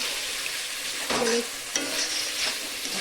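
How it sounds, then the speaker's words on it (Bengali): Lotia fish frying in a pan while being stirred, with a continuous sizzle broken by a few scraping stir strokes, close and fairly loud. "তো নেহেরে মাছটা দেওয়ার পরে আমি কন্টিনিউ দিয়ে নেড়তে থাকবো।"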